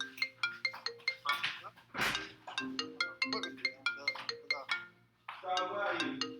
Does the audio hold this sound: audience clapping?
no